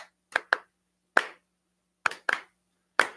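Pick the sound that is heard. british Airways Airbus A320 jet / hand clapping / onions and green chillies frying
hand clapping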